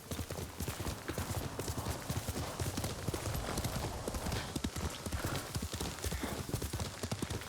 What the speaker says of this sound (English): Can I run him over with the horse?